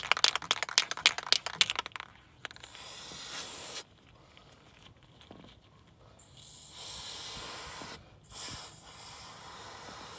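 Filter oil sprayed onto a dirt bike's foam air filter, rapid short hissing bursts at first, then longer continuous sprays with pauses, close and fairly quiet with no talk.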